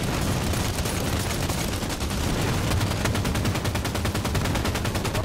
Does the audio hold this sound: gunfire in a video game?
yes